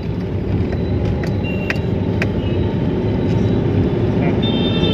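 A Chevrolet Beat with a three-cylinder engine drives up a flyover, heard from inside as a steady, dense engine and road drone with a few faint higher ticks over it.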